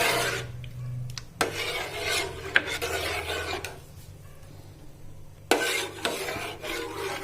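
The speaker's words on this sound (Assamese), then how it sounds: "এনেকৈ লৰাই থাকিব লাগিব যাতে গাখীৰখিনি ফাটি যায়।" A spoon scrapes and rasps around a pot while milk is stirred to curdle it for homemade cheese, with lemon as the souring agent. Rough rubbing strokes come in several bursts with short pauses between them, and no one speaks.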